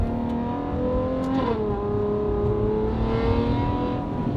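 A Ferrari 812 V12 with a titanium exhaust and free-flow front pipes wails steadily at high revs, its pitch dipping briefly as it shifts, then climbing again over a rough exhaust roar.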